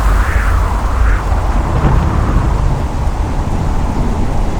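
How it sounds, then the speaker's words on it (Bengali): Heavy downpour driven by strong wind fills the scene with a dense, loud, continuous roar, with low rumbling like thunder underneath and no pauses. "হঠাৎ করে মুষলধারে বৃষ্টি হতে শুরু করে। জোরে হাওয়া আসে।"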